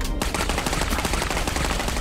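Gunfire rattles nonstop in the horror shooter Clive Barker's Jericho, a dense, loud burst of rapid shots filling the whole moment.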